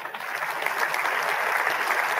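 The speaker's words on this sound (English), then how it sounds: "There are some pre-programmed samples in there, like the applause" Pre-programmed applause sample triggered from a Mackie M-Caster streaming mixer: a dense, steady wash of clapping that holds at even loudness for about two seconds, with no talk over it.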